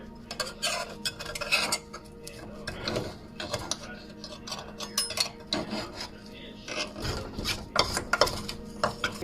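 Metal utensil scraping and clinking against a pan while loosening baked breakfast mini quiches, with bacon stuck to the bottom; repeated close scrapes, taps and rubs come in irregular bursts, with no talking.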